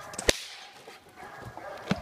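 Two sharp, close whip cracks a second and a half apart during a dog bite-training session, the first louder, with quiet background noise between.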